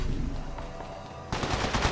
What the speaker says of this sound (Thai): กำลังยิงต่อสู้ศัตรู